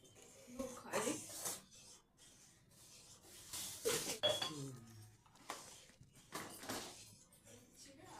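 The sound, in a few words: stirring rice pudding with raisins using a metal spatula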